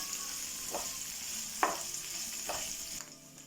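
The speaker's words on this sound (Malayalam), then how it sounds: "ഇഞ്ചി, ഒരു പച്ചമുളക്, 4 വെളുത്തുള്ളി എല്ലാം കൂടി ആദ്യം ഒന്ന് മൂപ്പിക്കാം" Ginger, a green chilli and four garlic cloves fry in a pan with a soft continuous sizzle, broken by three short utensil scrapes, close and quiet, fading near the end.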